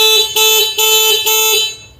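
An electric scooter horn beeps three times in quick succession, loud and close, with a bright electronic tone and short gaps between blasts.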